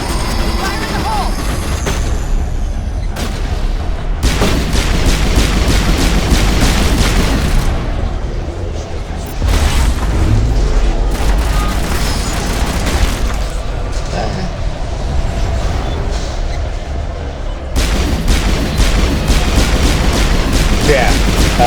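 Grenade explosions and combat blasts in the Mass Effect Legendary Edition video game, loud booms and cracks layered over dense continuous gunfire and battle noise, with brief drops in the din.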